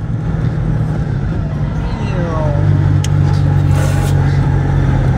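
A 1978 Citroën 2CV6 drives along the road, its engine droning steadily at moderate volume, slightly rising partway through, while a voice speaks over it.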